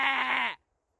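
A single sheep in the video game Minecraft lets out one short, nasal bleat that wavers slightly in pitch, loud and close, then stops abruptly into silence.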